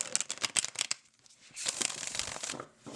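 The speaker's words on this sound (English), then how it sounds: "So this is the shuffle." Stiff new deck of playing cards with gilded edges being shuffled in two bursts of close, crisp riffling and flutter, separated by a short pause, with no talking.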